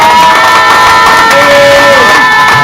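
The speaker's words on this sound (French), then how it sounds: "Je veux qu'on acclame Jésus pour sa vie" A loud crowd cheers and shouts in acclaim for Jesus at a prophet's religious gathering, a dense continuous roar of voices with whoops and some clapping throughout.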